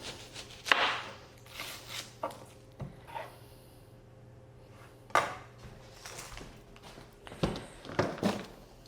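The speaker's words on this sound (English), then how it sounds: "I quite like the art of chopping" Onions chopped by hand with a knife in a kitchen, giving scattered close taps and cuts in irregular bursts with quiet pauses between them, plus light clatter of utensils.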